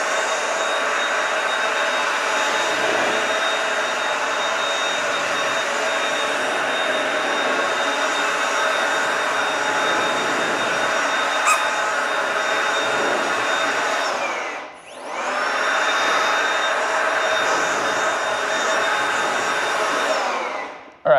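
An air blower roars steadily as it blows water off a ceramic-coated car surface, a loud continuous whoosh lasting about twenty seconds that dips briefly once before resuming, with no voices.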